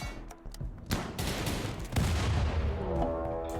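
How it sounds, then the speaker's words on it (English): Grenade blasts in the video game Rimworld, a burst of booming explosions that rolls into a dense continuous rumble and stays loud to the end, with no talking. "Alright, the grenades are sounding for us all."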